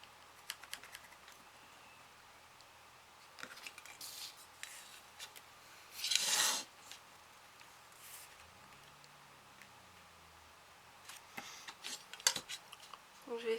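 A tool scores a crease line into card with short scraping strokes and clicks, scattered sharp taps and one louder rasping stroke in the middle, all fairly faint.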